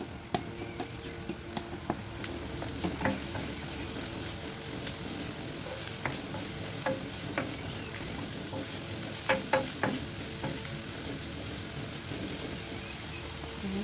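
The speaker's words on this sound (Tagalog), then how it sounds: "Tapos igisa yung onion." Two large onions sautéing in frying oil in a pan, a continuous close sizzle with stirring scrapes and a few sharp ticks of the spoon against the pan, steady throughout.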